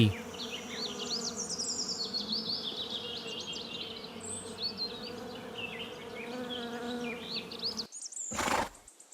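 A bee buzzes steadily close to the microphone, its drone rising and falling over several seconds while birds chirp and twitter in the background, ending in a brief burst of noise.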